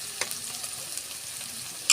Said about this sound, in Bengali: আমাদের পেঁয়াজ রসুন ভাজা ভাজা হয়ে গেছে।